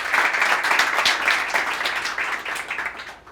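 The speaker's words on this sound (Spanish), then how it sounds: "un aplauso para Francisco" Audience applause rings out at a talk on tax structure, dense and steady for a few seconds before thinning slightly toward the end.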